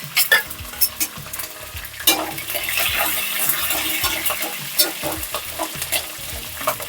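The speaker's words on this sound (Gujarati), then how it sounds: "એટલે હવે એની અંદર મરચાં તળાઈ ગયા છે" Green chilli pieces fry in hot oil with sesame seeds and curry leaves, giving a loud, close, crackling sizzle with a spoon stirring and scraping through it.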